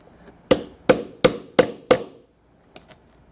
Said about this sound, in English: rivet the D-ring in place.